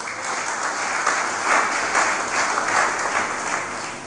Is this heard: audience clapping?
yes